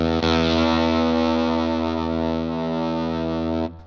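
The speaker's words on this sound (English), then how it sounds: "I'm using a little bit of a starving fuzz tone, courtesy of the Magnetic Effects White Atom, an English fuzz" An electric guitar runs through a Magnetic Effects White Atom, an English fuzz pedal set for a thin, starving tone, holding one loud, dense chord that sustains for over three seconds before cutting off.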